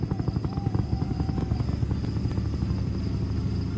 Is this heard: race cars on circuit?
no